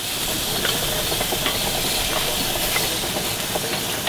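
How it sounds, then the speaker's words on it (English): Freshly grilled vegetables give off a loud, steady hiss of steam that fills the whole stretch without pause, with faint crackles scattered through it and no talking. "Hot, steaming, fresh vegetables right off the grill"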